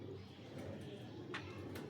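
A pure Lal Pari female pigeon coos softly in a short burst against a quiet background, with a couple of faint chirps from other birds nearby.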